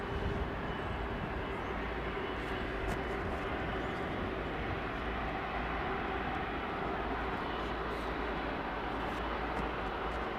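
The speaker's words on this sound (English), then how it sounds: "Landing a big old 500-ton machine like that with grace and panache." A large, heavy airliner lands at London Heathrow Airport, heard as a faint, distant, unbroken roar of jet engines that holds steady throughout with no voices.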